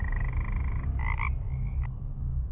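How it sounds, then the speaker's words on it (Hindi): Frogs croak near a pond at night, a short run of pulsed calls followed by a couple more croaks over a steady low rumble and a thin high tone. "पास के तालाब से मेंढकों की आवाजें आ रही थीं।"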